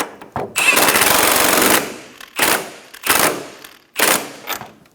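A wrench snugs down the strut top nut on a 2012-2020 Chevrolet Sonic during a front strut and spring replacement, heard as four loud, close rattling bursts, the first long and the rest shorter, with brief pauses between.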